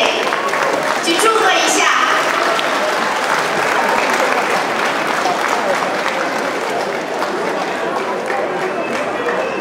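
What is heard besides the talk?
audience applause at a graduation ceremony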